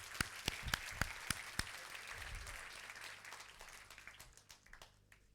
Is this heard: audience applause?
yes